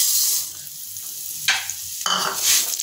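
Semiya vermicelli fries in a pan with a soft crackling sizzle, broken by two sharp bursts of louder hissing as it is stirred, close and without talk.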